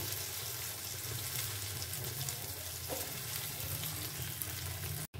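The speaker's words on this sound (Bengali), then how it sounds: "এরপরে একে একে ঠিক এইভাবে আমি ভেজে নেব" Chili chops fry in hot oil with a continuous, even sizzle and a low steady hum beneath it, fairly quiet and close, cutting out abruptly near the end, with no voices.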